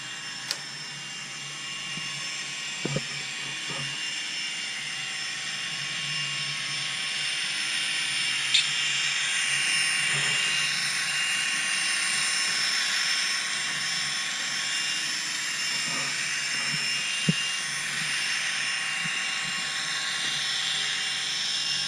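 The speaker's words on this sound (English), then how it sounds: "That's a Kato trolley, which is also DCC, but it's running on DC with an automatic reversing" A Kato model trolley, DCC-equipped but run on DC with automatic reversing, whirs steadily along its track, a continuous close mechanical hum broken by a few faint clicks.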